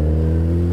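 A small motorcycle engine drones close by in traffic, a steady, loud buzzing whir that holds evenly throughout the short moment with no speech.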